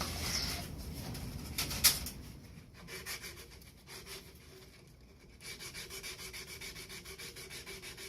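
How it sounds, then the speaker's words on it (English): A forged bottle opener being sanded on a belt grinder, a quiet, continuous abrasive rasp with a steady rhythmic pulsing, briefly louder and harsher near the start before settling into an even grind. "I got the sanding mostly done on the bottle opener end"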